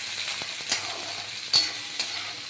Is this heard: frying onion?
yes